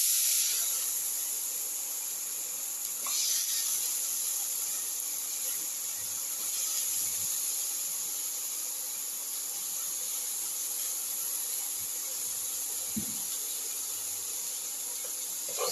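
Potato pieces sautéing in a pan for a ginger eggplant potato casserole give off a continuous, even high hiss of sizzling, with a few faint utensil taps and no talking.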